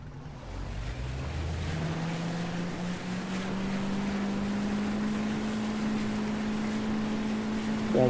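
The outboard motor of a Zodiac inflatable boat in the ARMA 3 video game revs up, then settles into a loud, steady drone with water and wind rushing underneath.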